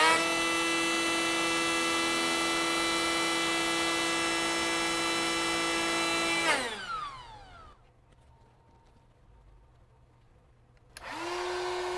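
An older Ryobi air inflator runs with a steady high-pitched motor whine, then winds down and cuts off, leaving a low background hum until a newer one briefly starts up at the end.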